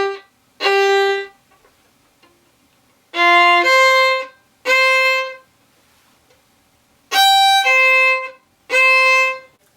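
Violin playing a theme with a down, up, up bowing pattern, giving short bowed notes in spaced groups with bright ringing tone and quiet gaps between them, no talking.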